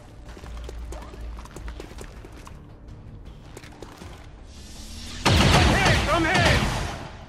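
Gunfire in the video game XCOM 2: scattered sharp shots early on, then a loud sudden barrage erupts near the end, with voices talking over the action.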